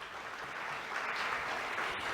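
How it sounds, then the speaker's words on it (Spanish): Audience at a pest-control conference in Peru giving applause, a steady dense patter of many hands clapping, moderately quiet and even throughout, with no talk. "Agradezcamos por favor nuevamente con un fuerte aplauso a Gorka Urbieta."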